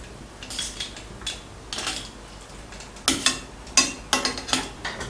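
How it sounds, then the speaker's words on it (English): Metal utensil scrapes and clinks against a pot while pork ribs are turned and rock sugar is added during simmering, a series of sharp close knocks, clustering and growing louder toward the end. "add the rock sugar and turn the ribs over for even cooking"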